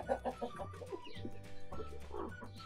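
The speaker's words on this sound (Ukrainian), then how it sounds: "Ось Курчата, до речі, вилупилися практично всі" Chickens cluck in short bursts close by, mixed with higher cheeping calls from newly hatched Barbezieux chicks, with brief pauses between the calls.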